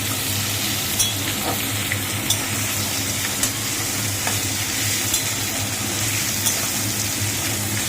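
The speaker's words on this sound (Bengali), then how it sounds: "পেঁয়াজটা একটু ভাজা হোক।" Onions fry in a pan for a cauliflower curry, giving a continuous loud sizzle with regular scraping stirs throughout.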